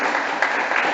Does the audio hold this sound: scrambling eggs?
no